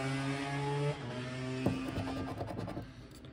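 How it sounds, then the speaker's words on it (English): A passing motorcycle engine drones with a steady pitch in the background, then shifts and fades into rougher, scraping noise, somewhat distant and fairly quiet. "Probably heard that motorcycle in the background."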